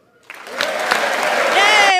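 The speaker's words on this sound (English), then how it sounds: "Yay, more clapping." Applause from members of Congress for King Charles III, rising from a few claps into sustained, dense clapping in a large chamber, with voices mixed underneath.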